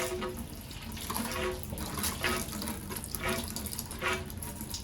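Fuel gurgles and trickles from a boat tank through a DIY pump siphon kit, with a continuous liquid flow and bursts of splashing that recur about once a second, close up and with no talking.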